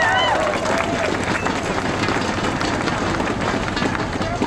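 Audience applause at a teacher rally panel discussion, a steady dense wash of clapping from a crowd lasting throughout, loud and continuous with some crowd noise.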